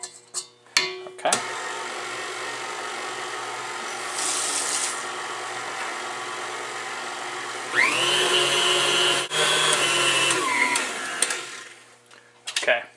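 An electric hand mixer with a wire beater runs in steady whirring stretches through cinnamon roll dough, with pauses and a louder higher-pitched burst near the end, fairly close.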